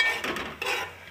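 A spoon scrapes and stirs ground coconut paste in a pot. There are three or four soft, brushy strokes in quick rhythm with a faint metallic edge, close up and fairly quiet.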